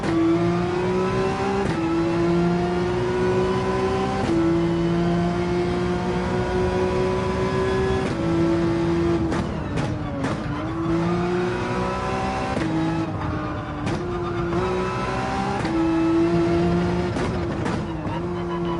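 A Porsche 911 engine roars continuously in Gran Turismo 7 racing, loud and close, rising through the revs and dropping at each gear shift in a repeating pattern.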